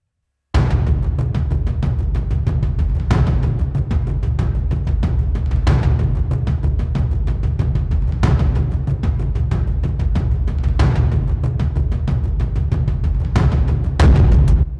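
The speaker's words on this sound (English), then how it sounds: "And then we also have like your standard kind of like action strikes or taiko drums" Cinematic action strikes or taiko drums pound out booming, reverberant hits at irregular intervals over a dense, continuous low rumble, loud and close throughout.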